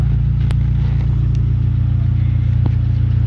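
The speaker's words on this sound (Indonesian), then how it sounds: "Mesinnya halus bosku, mesinnya halus, RPM nya di angka 850." A used car's engine idles at 850 RPM with a steady, low, even rumble and a couple of faint clicks over it, close and unbroken throughout.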